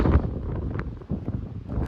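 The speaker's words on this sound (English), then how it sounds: "it's going to be so windy here" Strong wind from a desert sandstorm buffets the microphone in rough, continuous low rumbling gusts.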